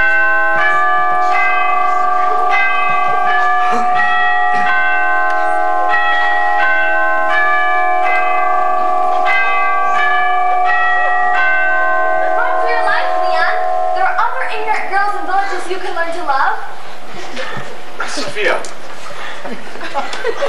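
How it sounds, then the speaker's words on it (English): Church bells ring out in a loud, sustained peal of overlapping tolls with long ringing tones, joined later by a jumble of voices and laughter. "Listen, the church bells."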